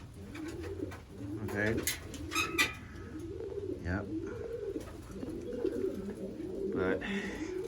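Racing pigeons coo steadily in a loft, soft throaty calls overlapping with occasional wing flutters, while someone speaks a couple of brief words.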